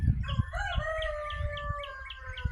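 A rooster crows one long drawn-out call, close and clear, with faint chirps and low thumps in the background.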